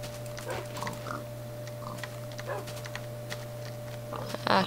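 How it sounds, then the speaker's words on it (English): Pigs in the Minecraft video game give several short, scattered oinks over a steady electronic hum, with light clicking in between and a louder burst at the end. "Kill these pigs."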